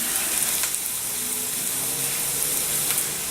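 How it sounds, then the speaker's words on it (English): Sliced peppers and half an onion fry in a hot pan with a steady, dense sizzle that holds evenly throughout, close and fairly loud, with no voices. "I got the cooking, the peppers and onions, pepper and half onion going"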